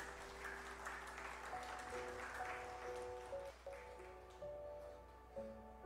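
A church congregation claps and applauds during a Spanish-language sermon, steady mid-level clapping with sustained organ or keyboard tones underneath throughout.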